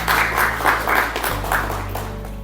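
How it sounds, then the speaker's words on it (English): Brief applause from a small group at a Toastmasters club meeting, a few scattered claps in uneven bursts before trailing off over a steady low hum. "So big applause to all the role players who supported for this meeting."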